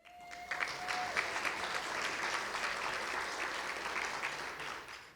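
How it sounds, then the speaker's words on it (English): Audience applause for a sponsor at a housing program event, a dense sustained clapping that holds steady from start to finish with a brief tone near the beginning. "Round of applause."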